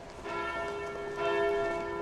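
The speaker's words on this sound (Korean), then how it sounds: "성당에서 정오를 알리는 종이 울렸다" Church bells ring out the noon hour in Brno, Czech Republic. Two resonant strikes with long humming overtones sound about a second apart, at a moderate distance and with no talking.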